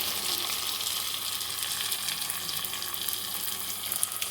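A spice paste with turmeric fries in a pan, giving a dense, continuous bright sizzle that stays even and close for a few seconds, with no talking.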